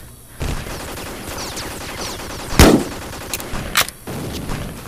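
Mortar fire in Vietcong: Fist Alpha sounds as sharp, loud blasts, one heavy impact near the middle and a few lighter cracks after it, over steady battlefield noise.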